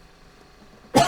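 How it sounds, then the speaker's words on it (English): A single short cough bursts out near the end, loud and close after near silence. "Sorry for coughing, I'm a fucking mess."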